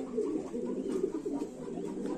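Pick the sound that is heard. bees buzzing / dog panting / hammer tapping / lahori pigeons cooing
lahori pigeons cooing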